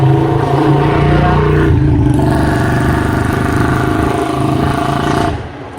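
A motorcycle engine runs loud and near on a street in Agartala, a steady mid-pitched drone that rises in a rev, holds, then fades at the end.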